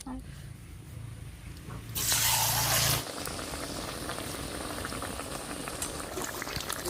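A batter-dipped Malabar spinach (pui shak) leaf drops into hot oil in a kadai, setting off a loud one-second burst of hissing that settles into steady, close bubbling and crackling sizzle.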